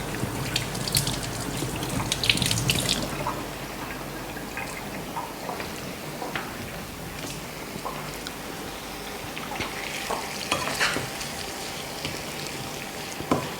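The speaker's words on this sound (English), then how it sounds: "this will go away to the sink. I wash my hands." Hands washed under a running sink tap, a steady close wash of water with scattered drips and splashes throughout, busier at the start and again near the end, with no talking.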